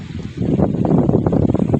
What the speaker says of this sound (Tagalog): malakas na hangin naman ngayon